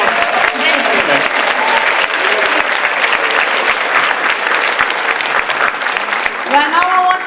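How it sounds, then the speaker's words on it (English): Sustained applause from a school audience at a tenth-anniversary celebration, dense and steady for the full stretch, with voices and a cheer rising near the end. "A big applause for Marie-Wagen, Ansa, Danderyd, and Millennials."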